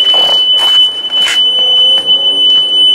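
A Haulotte scissor lift gives off a steady, high-pitched electronic buzz while its small side stabilizers kick out as the platform starts to rise. The tone runs continuously and loud throughout, with faint clunks and rattles of machinery underneath.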